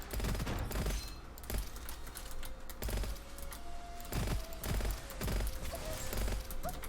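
Gunfire rattles in the shooter game Gunfire Reborn, bursts of rapid shots over a continuous game soundscape with faint tonal effects, fairly quiet and without speech.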